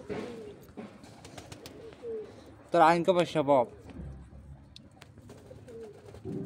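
Doves cooing from a flock of about 16 to 18 collared and white doves, a close burst of repeated throaty coos in the middle, with someone talking before and after.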